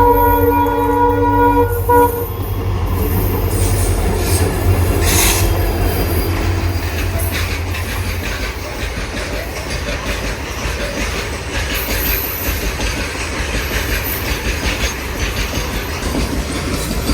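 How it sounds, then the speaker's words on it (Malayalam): A loaded goods train heading from Vasco da Gama rolls loudly through Suravali station, its wheels rumbling and squealing on the rails in a continuous close pass, with a brief horn toot at the start. "അങ്ങനെ ഒരു ഗുഡ്സ് ട്രെയിൻ വരുന്നുണ്ട്."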